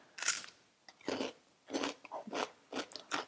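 Raw radish is chewed in crisp, loud crunching bites, about six separate crunches in quick succession, close up with no talk.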